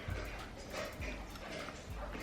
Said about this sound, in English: Hear that noise? That's my dog.